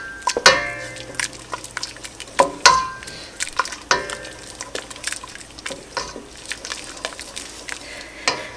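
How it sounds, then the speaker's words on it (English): A whisk beats pectin quickly into a lemon ginger marmalade mixture in a pot, giving a run of sharp, irregular clinks and sloshes against the metal, close and clear, with quieter wet stirring between the strikes. "we're going to whisk it in pretty quickly and make sure it's completely dissolved"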